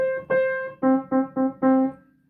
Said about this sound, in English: This is a C. We call this usually low C.